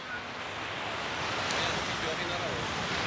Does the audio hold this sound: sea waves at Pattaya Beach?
yes